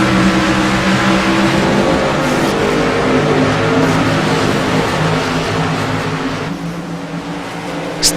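Race cars accelerating together on a single-file restart at Richmond, a loud, dense engine roar with rising revs from several cars close by, sustained for several seconds before easing slightly.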